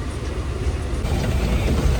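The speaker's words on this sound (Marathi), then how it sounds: "अरे आमची ट्रेन आलेली आहे." A Mumbai local train rumbles steadily close by in heavy rain, a dense low roar with rattling undertones that swells slightly partway through, with no voices.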